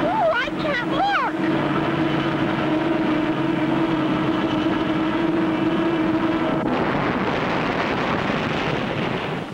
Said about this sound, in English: The Aerobus falling and Clutch hanging on underneath.